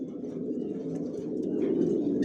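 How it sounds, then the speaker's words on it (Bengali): Johnson red checker racing pigeons coo in a dense, continuous low murmur from several birds close by in a loft, with no talk. "শেপ সাইজ কোয়ালিটি দেখুন, টপ কোয়ালিটির কবুতর পালি"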